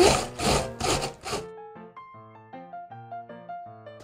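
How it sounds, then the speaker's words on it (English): Cabbage is grated for Korean street-food egg toast: four quick, rhythmic rasping strokes sound up close, then give way to light melodic music. "Let's grind in cabbage."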